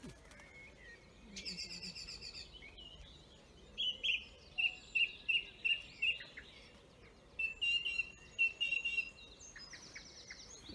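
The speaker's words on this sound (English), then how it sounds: "Everybody will know now what the song thrush is now," A song thrush sings in a dawn chorus, delivering a series of clear, repeated phrases in short bursts, with other birds chirping faintly around it outdoors.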